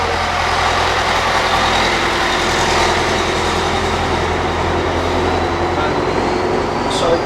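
An old stationary engine runs steadily throughout, a continuous low, even drone with no pauses, fairly close and loud.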